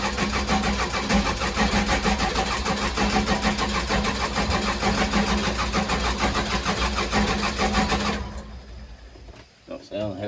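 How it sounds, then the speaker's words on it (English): The engine of a Case 580 Super L backhoe cranks with a fast, rhythmic starter churn for about eight seconds without catching, then cuts off. Someone talks over it. "Don't sound healthy as cranking, but it's trying to kick."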